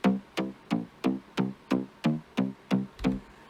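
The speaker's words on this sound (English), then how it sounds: "And it's actually just a mid bass." A psytrance mid bass synth plays a steady run of ten punchy, evenly spaced plucked notes, each with a bright attack and short decay, loud and alone with no voices.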